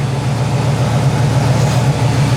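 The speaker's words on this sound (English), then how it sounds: "Listen to how quiet and nice that engine was too" A 1965 Ford Mustang Fastback's V8 engine idles steadily with a low, even rumble, close and continuous, with no voices.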